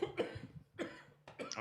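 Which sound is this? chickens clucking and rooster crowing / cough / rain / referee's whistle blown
cough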